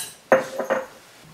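Two tablespoons of chana dal go into a hot heavy-bottomed pan while making Mysore Iyengar puliyogare gojju; a few short, close metallic clinks and rattles with no talking.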